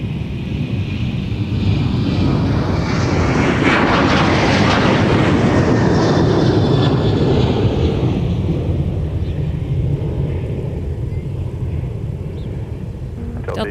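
A Delta airliner takes off from Minneapolis–St. Paul airport, a loud, steady jet engine roar that swells and sweeps past before easing slightly, with no talk over it.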